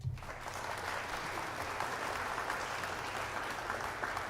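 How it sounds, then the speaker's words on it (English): Applause sound effect played on a live stream, a steady wash of clapping throughout at moderate, even volume with no voices over it. "You get another round of applause."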